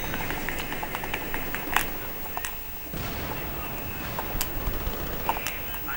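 Gunfire fills a metro conquest match in the video game Battlefield 3: scattered shots and distant booms crack over a busy rumbling battle bed, moderately loud and continuous.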